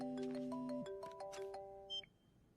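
A phone call ringing through, a quiet electronic ringback melody of stepped tones repeating for a couple of seconds before a short beep, heard alone.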